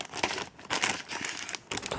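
A plain plastic packaging bag from an Avon cosmetics order crinkles in quick, close bursts of rustling, several distinct crackles over a couple of seconds with no talk.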